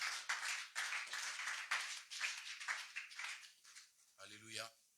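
A church congregation claps in praise, rhythmic steady hand claps from many people filling the room, with a voice briefly sounding near the end.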